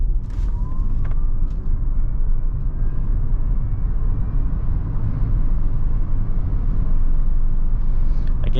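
A 2024 Kia EV9 electric SUV driving in sport mode, a steady loud low road and cabin rumble with a faint rising electric motor whine, and no voices.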